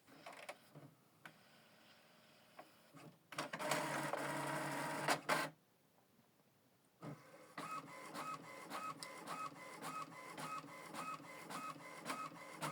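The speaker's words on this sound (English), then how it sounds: "So now it's printing alignment." An HP Envy 6032e inkjet printer prints an alignment page: feed motor whirs, a loud sustained burst of mechanical grinding, then rapid rhythmic clicking and whirring as the print head sweeps back and forth, close and alone.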